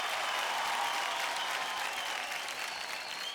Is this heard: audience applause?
yes